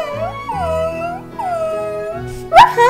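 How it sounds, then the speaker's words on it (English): A dog howls in long wavering cries, one after another, then ends with a sharp louder whimper, all close and loud with no talk over it. "bad dog!"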